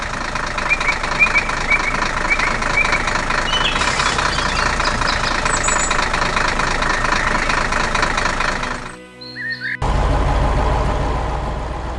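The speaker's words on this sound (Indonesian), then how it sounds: "Traktor merah sedang mengebor tanah di hutan, membuat lubang besar di bawah tanah." A red cartoon tractor drills into forest ground to make a big hole, its engine chugging and knocking steadily at a loud, constant level, then briefly cutting out before resuming with a heavy low rumble.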